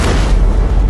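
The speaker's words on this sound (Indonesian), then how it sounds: "Tembakan kedua dari masing-masing meriam kemudian meluncur dan kembali mengenai sasaran" A cannon fires at a ship at sea, a loud, sustained deep boom with rumbling low-end energy filling the whole moment.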